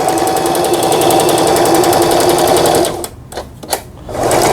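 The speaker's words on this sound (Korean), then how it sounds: "다시 직선 바느질 와서 땀수를 넓혀보고 촘촘하게 해보고" A Singer 3722 household sewing machine runs a straight seam, a loud, steady, rapid mechanical chatter that stops abruptly near the end, with a few brief clicks before the motor resumes.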